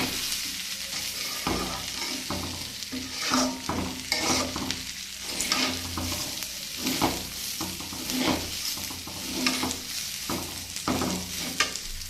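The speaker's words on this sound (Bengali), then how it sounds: "এবার এটাকে নেড়ে ভেজে নেব" Rice and potatoes with raisins, bay leaf, cloves and cardamom fry and are stirred in a pan, a continuous close sizzle broken by repeated scraping spatula strokes at an uneven rhythm.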